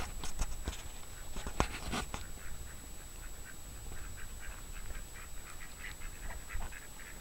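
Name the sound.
ducks on a garden pond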